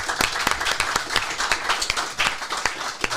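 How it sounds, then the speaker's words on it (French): A studio audience applauds Robin, who arrived wearing a kilt, on a French variety show: dense, steady clapping from a crowd with sharp individual claps standing out throughout. "Je vous demande d'applaudir Robin en kilt."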